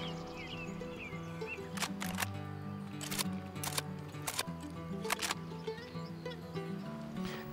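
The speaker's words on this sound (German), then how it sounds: "Geiles Nachladen, finde ich gut." Rifle being reloaded in the hunting game Way of the Hunter: several sharp, crisp mechanical clacks spaced across the clip, close and clear over a steady ambient game bed with faint nature sounds.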